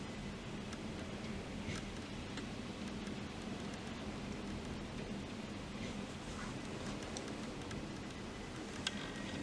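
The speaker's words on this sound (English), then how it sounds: "I'm so glad we're finally getting a little bit of rain." Steady rain falls with a constant, even hiss during a thunderstorm in Leicestershire, UK, with occasional faint ticks of drops and no voices.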